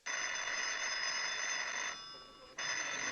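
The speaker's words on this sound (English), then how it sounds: "Phone's ringing, Sam." An old-fashioned telephone bell rings in a steady, loud continuous trill, pauses briefly, then rings again.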